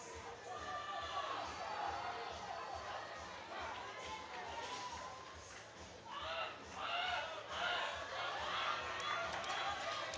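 Crowd at a high school powerlifting nationals meet, a steady roar of cheering and chatter that swells toward the end, with a commentator talking over it.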